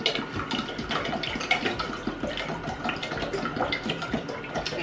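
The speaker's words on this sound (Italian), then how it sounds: "E quindi devo mettere l'acqua della pasta urgentemente." Tap water running steadily into a pot to make pasta water in a home kitchen, a continuous close splashing gush with no talk.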